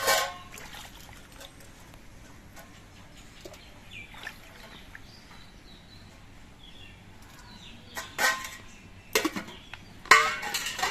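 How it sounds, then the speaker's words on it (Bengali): Cut potatoes for white khichuri are rinsed in water and tipped into a cooking pot. Quiet trickling and sloshing give way to louder splashes and clatter near the end. "এবারে আলুগুলো আমি ধুয়ে নিচ্ছি ধুয়ে হাড়ির মধ্যে দিয়ে দিচ্ছি"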